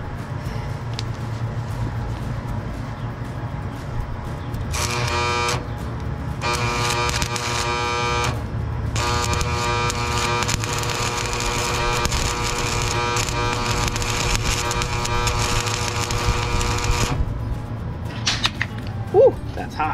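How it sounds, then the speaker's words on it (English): A welder tack-welds steel round stock on a trailer during a repair, the arc giving a steady crackling buzz in several bursts over a constant background hum. "So I'm gonna give it a tack weld right where it sits."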